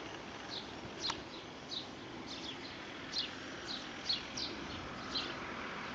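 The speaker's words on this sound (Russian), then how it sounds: "Птицы поют." Birds chirping outdoors near the centre of Nova Kakhovka, short scattered calls at a moderate distance over a steady hiss of background ambience.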